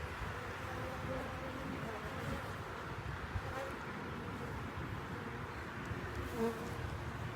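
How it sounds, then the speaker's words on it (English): Dense, steady buzzing of a large mass of honeybees in a queenless colony, close and continuous with faint wind noise and no talking. "this is like a bulk of the bees. They're all over the place."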